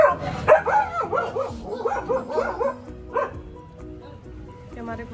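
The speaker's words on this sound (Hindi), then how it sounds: "कि हमारे कुत्ते हो गए हैं पागल।" Several dogs bark and yip in quick, overlapping bursts close by, with whimpering and voices mixed in, then quieter background noise follows.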